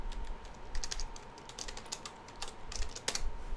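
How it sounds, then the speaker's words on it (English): Keys clack on a computer keyboard in quick, uneven bursts of close taps, with a faint steady hum underneath. "Didn't finish typing it right."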